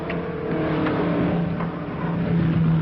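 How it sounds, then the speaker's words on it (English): The Blonde Comet's race car driving out, a steady close engine drone with a whirring tone that builds slightly over a few seconds. "There's the Blonde Comet's car coming out again."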